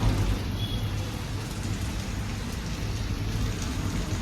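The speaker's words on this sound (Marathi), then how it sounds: "चला बघा पाऊस बेकार एक नंबरचा" Heavy rain falling outdoors in a steady, dense wash of noise that fills the whole clip, with no voices.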